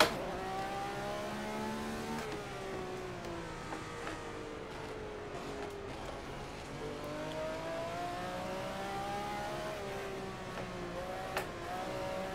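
Ferrari 312 race car engine in a historic racing video game, a steady loud mid-pitched engine drone that revs up and down through the whole stretch, with a gear shift near the start and pitch sweeps rising and falling.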